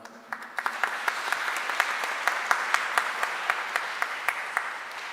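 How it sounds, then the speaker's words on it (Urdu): A congregation at a Christmas church service claps in unison, crisp regular beats building quickly into a steady rhythmic clap over a low hum of voices. "ذرا بھرپور تالیاں بجا کر ایک دوسرے کو بڑے دن کی مبارکباد دیں۔"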